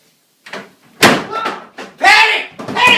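A door is opened and then slammed shut, several loud bangs and thumps coming close together over a few seconds, with voices talking over part of it.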